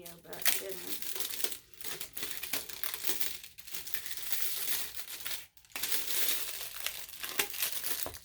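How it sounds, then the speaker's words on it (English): Plastic wrapping is pulled off a craft backdrop pack and crinkled by hand, giving loud, irregular bursts of crackling with brief gaps and a voice talking underneath. "sorry if that's loud, the plastic is loud"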